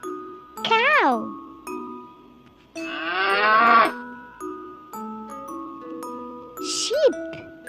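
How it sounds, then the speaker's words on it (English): A farm cow moos in a long, drawn-out call, loud and close, with a brief jingling tone and a second lowing sound around it; a voice is heard alongside. "Cow."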